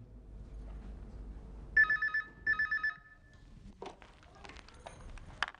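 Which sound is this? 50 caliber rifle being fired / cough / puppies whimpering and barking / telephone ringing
telephone ringing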